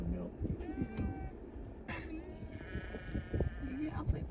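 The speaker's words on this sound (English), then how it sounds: "You know how sheep are, they just gotta follow." Sheep on a mountain pass bleat several times, close and loud, with bells and other farm noise around them and a person talking over parts of it.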